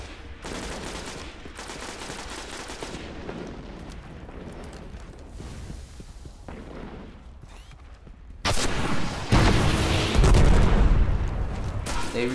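Continuous rapid gunfire from a Destiny firefight, dense overlapping bursts with a louder, harsher stretch of shooting near the end.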